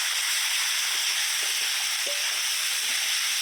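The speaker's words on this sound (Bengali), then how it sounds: "কড়াইয়ের মশলাগুলো কিছুক্ষণ সময় ভেজে নিলাম কাঁচা গন্ধটা যাতে চলে যায়" Spice paste of onion, green chilli, ginger, cumin and coriander with turmeric, chilli powder and salt frying in a kadai, giving a steady close sizzle throughout with a few faint stirring knocks.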